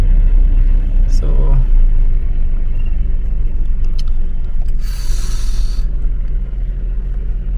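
Busy car traffic on Kimathi Street in Nairobi's central business district: a loud, continuous engine rumble up close, with a brief hiss from a passing vehicle partway through.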